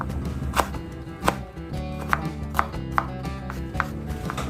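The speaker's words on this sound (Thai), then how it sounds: "ช่วยเครื่องหน่อยนะคะ โดยการหั่นให้เป็นชิ้นเล็ก ๆค่ะ" A knife chops ingredients into small pieces on a cutting board for beef khao soi, with sharp irregular knocks over faint background noise and no talking.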